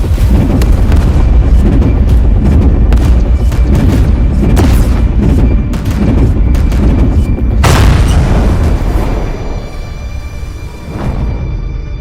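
Ship guns firing during battle in Warhammer 40,000: Chaos Gate - Daemonhunters, a loud, dense barrage of booming blasts that lasts throughout, with one especially heavy impact midway and the barrage thinning slightly toward the end.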